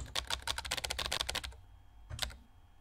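Keys clatter rapidly in a close burst of typing in the video game Emily is Away 3, stop for half a second, then come back in a short second flurry.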